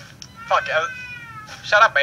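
A cat meows inside the horror game Ju-On: The Grudge, heard as short tonal cries between bursts of loud talk from a player reacting nearby.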